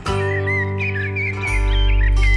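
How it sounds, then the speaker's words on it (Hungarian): A common blackbird's whistled song carries a children's forest song about birds, with bright warbling phrases riding over a steady musical backing that swells louder near the end. "Ő a fekete rigó, azt fütyüli nektek"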